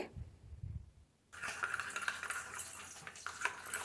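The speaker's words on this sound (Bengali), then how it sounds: "এবারে খুব ভালো করে মিক্স করে নিতে হবে" Yogurt mixed with salt, Kashmiri chili powder and cumin powder being stirred in a bowl. A quiet start breaks into steady, close scraping and swishing with light clinks for the rest of the moment.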